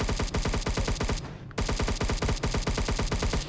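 Rapid automatic gunfire from guns in a Roblox game, loud and nearly continuous with a short gap in the middle, dense bursts of shots with no voices.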